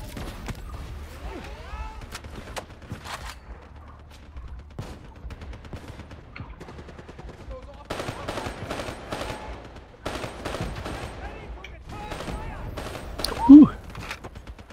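Burst-fire gun in Black Ops 3 combat, short clustered volleys popping at intervals with quieter gaps, mixed with other game noise and a brief voice.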